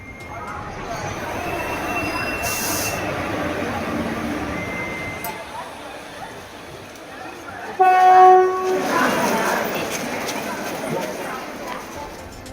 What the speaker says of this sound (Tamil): தாம்பரம் ரயில் நிலையத்தில் அலைமோதிய கூட்டம்.